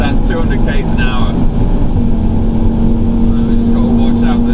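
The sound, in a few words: Audi TT RS engine and exhaust accelerating at speed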